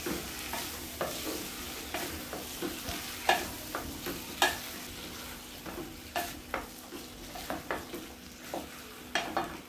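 Potatoes cut into small pieces are stirred in a cooking pot: a steady close sizzle broken by rhythmic spoon scrapes and clinks against the metal, about one every half second, with no talking.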